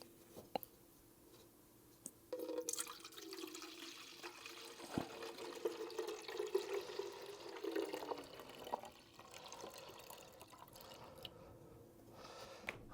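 Liquid is poured from one container into another for watering dry seedlings, a steady trickling splash running for several seconds before tapering into a few drips, with no talking.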